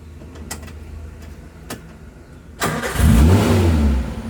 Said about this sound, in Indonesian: Ini langsung greng, nyalain pertama.